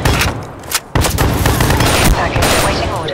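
Shotgun fire in a multiplayer video game shootout, with loud heavy blasts and rapid shots in quick succession and a brief break before the firing resumes.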